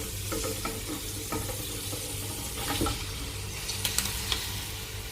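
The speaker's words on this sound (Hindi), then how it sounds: "अभी मैं इसमें चिकन डालने वाला हूँ।" Half a kilogram of boneless chicken fries with onion and garlic in a pan, giving a continuous sizzle with occasional stirring scrapes and bubbling.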